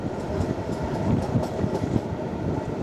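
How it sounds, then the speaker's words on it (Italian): Historic railway carriages roll along the rails in Friuli Venezia Giulia, giving a steady rumble with faint rhythmic clatter from the wheels, heard from inside or alongside the moving train. "Il rumore dei vagoni che corrono sui binari, il sussulto delle carrozze in movimento"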